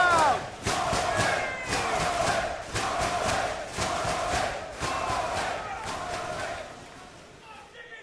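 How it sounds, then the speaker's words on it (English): A Ring of Honor wrestling arena crowd roars during a tag team title match, with loud, surging cheers and rhythmic chanting swells that pulse through the whole stretch before easing slightly near the end. "Listen to the crowd."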